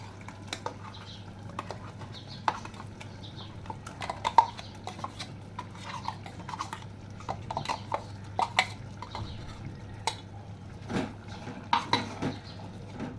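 Chicken curry with ground masala paste stirred in a pot, a spoon scraping and knocking against the metal in irregular, light clinks over a low steady hum, with no talking.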